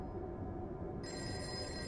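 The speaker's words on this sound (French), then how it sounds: "avec Jimmy, il y a le téléphone qui sonne" A telephone rings over a steady low rumble of background noise, its bright electronic tone entering about halfway through and holding alone without speech.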